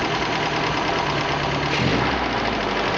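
MG engine fitted with HIF carburetors running steadily and fairly loud, with a slight rise in revs near the end and a rough, knocking undertone throughout.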